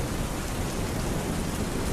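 Heavy rain falls in a steady, dense wash with no pauses, and a low thunderstorm rumble runs underneath it.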